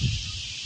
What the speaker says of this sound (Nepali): हावा छ है, सरर हावा आएको छ